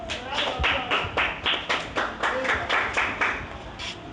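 A small group claps at a book-club reading event, a loose burst of hand claps with uneven rhythm, fairly close, with voices murmuring underneath.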